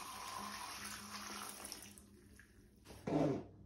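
Water pours from the removable tank of a tumble dryer into a sink in a steady splashing stream that thins out, followed by a brief louder gurgle near the end.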